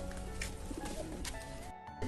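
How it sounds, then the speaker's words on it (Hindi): Pigeons coo softly amid the busy background of an outdoor bird market, low repeated calls with some chirps, mixed with crowd noise. "ये देखो भाई कबूतर।"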